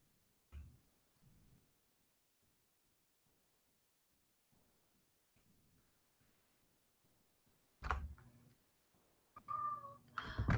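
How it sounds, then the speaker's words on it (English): A cat meows a few times at close range in a quiet room, with a couple of faint cries early on and then louder, insistent meows at the end. "My cats are little attention whores."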